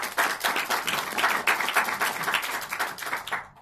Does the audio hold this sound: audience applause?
yes